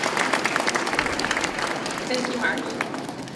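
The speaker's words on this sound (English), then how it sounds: "I'd love to give us a round of applause for Margie Gilligan from Mass Rehab" Audience applause for Margie Gilligan of Mass Rehab at an ADA Day 2018 event, a dense, steady round of clapping from a crowd, with a brief spoken thanks over it.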